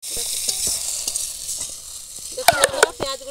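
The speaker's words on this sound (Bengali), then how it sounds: "এবার পেঁয়াজ আর রসুন একটু ভালো করে ভেজে নেব।" Onion and garlic paste sizzles steadily in a frying pan for a chicken curry, with scattered clicks and scrapes of stirring that grow louder in a cluster of sharp clatters near the end.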